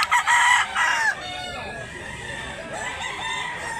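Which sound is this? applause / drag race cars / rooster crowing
rooster crowing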